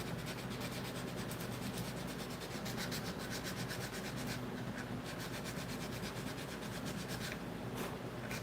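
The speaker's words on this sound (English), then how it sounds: "Let's get some sandpaper." Wood boards being hand-sanded with sandpaper, a steady close rasping scrub that runs without a break, with no talk over it.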